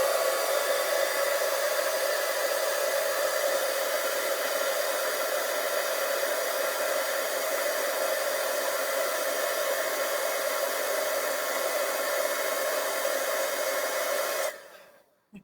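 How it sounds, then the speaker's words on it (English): Embossing heat tool blowing hot air, a steady close whirring hiss held unchanged for about fourteen seconds before it cuts off abruptly. "gotta plug in my heat tool, pull that out, and then carefully we're gonna hold this."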